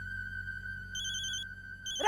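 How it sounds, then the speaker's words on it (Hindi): A telephone rings with an incoming call, a steady electronic ringtone with a brighter chirping burst layered in partway through, close and clear, with a voice starting right at the end. "डीएसपी सर का फोन आ रहा है।"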